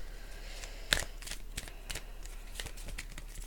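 Oracle cards with gilded edges from the Wisdom of the Oracle deck are shuffled by hand for a reading. Close, soft riffling and slapping comes in quick uneven bursts with one sharper snap, and no talking.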